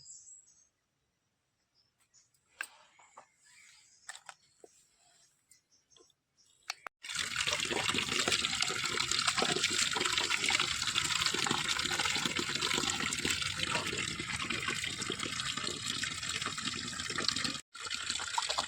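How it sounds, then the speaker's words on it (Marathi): Large estuary clams being rinsed in water to wash out sand: after about seven seconds of near silence with a few small clicks, a loud, steady rush of splashing and running water fills the rest of the clip, close to the microphone. "हे असे स्वच्छ धुवायचे ह्याच्यात खूप रेती असतात"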